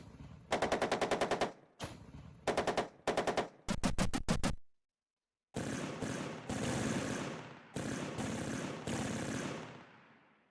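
Bursts of gunfire in Armoured Commander II, rapid machine-gun volleys in several separate strings with a short silent gap, sharp and loud, no talk.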